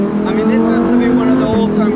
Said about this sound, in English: this has to be one of the all-time great engines